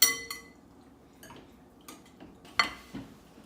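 Cake batter with vanilla and lemon juice for a strawberries and cream cake is stirred in a bowl, a few sharp utensil clinks against the bowl between soft scraping sounds, close and fairly quiet.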